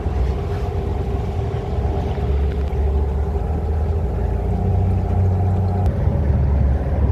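Small boat's outboard engine running poorly at full throttle, a steady rough drone with wind noise, its pitch wavering slightly and lifting briefly before dropping back near the end.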